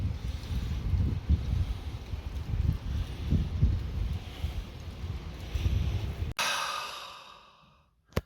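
Strong wind buffets the microphone outdoors in rainy weather, a loud, steady roar with gusty surges for several seconds before cutting off abruptly into a brief fading tail.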